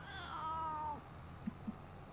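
A cat gives one faint meow that trails off, followed by two soft taps against a constant low background hum.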